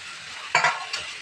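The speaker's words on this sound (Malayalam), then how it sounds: "പിന്നെ തക്കാളി ഇട്ട് കൊടുക്കാം." Tomatoes being stirred into a sizzling pan of beef curry, a short burst of close scraping and hissing as the spoon moves through, then a second stir.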